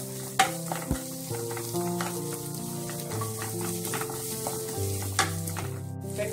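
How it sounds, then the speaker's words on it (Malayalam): Sliced onions frying in a pan for a coconut-milk biryani, crackling sizzle with repeated spoon scrapes and taps as they are stirred, close by, while tonal background music plays underneath. "സവാള ഒരു ചെറിയ ബ്രൗൺ നിറമാവുന്നത് വരെ നമുക്ക് ഇളക്കി കൊടുക്കാം"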